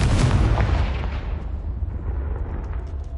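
Confringo spell blast in the Hogwarts Legacy video game, a single loud booming explosion up close that rolls and fades over a few seconds.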